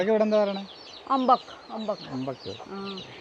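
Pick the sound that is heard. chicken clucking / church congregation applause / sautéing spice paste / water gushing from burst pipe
chicken clucking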